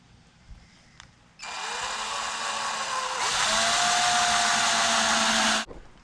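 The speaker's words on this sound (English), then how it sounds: "I'm going to drill another small hole and push that down in there" A power drill boring a small hole in a plastic Jeep coolant overflow bottle, a loud, high whining buzz that starts abruptly, rises in intensity partway through, then cuts off after about four seconds.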